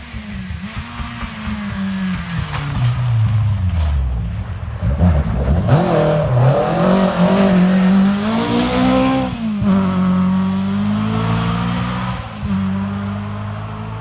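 A Skoda R5 rally car runs a rally stage, its engine loud and close, revving hard and shifting up and down in pitch as it drives past, with a tire squeal partway through.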